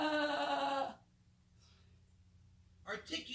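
A person imitates a sheep with a short, close, wavering bleat, followed by silence and then the start of more speech.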